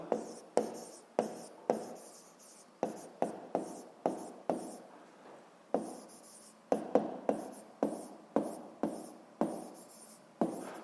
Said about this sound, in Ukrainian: записуємо грецького філософа.